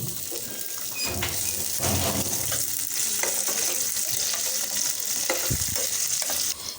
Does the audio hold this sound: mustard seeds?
yes